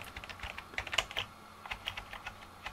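Keys clatter on a ZX Spectrum 128K toastrack computer, a quick irregular run of sharp clicks and taps with several pressed close together, fairly quiet and with no voices.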